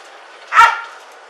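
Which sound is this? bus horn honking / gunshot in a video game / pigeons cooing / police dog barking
police dog barking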